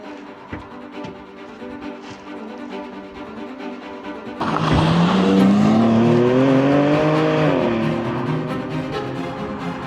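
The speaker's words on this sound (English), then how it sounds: "Let's take it for a drive and find out if it really is the ultimate BMW M" A BMW M2 is out on the road. A quieter cabin drone gives way to a loud engine surge, and the note climbs and falls with the revs through the gears.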